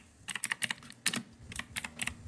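Keystrokes on a computer keyboard as a search is typed, a quick irregular run of close clicks in short bursts with brief pauses, alone over faint room hum.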